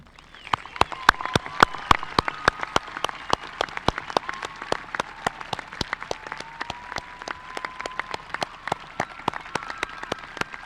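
A graduation audience in a high school ceremony claps in a steady, dense patter of many hands, sustained and fairly close throughout.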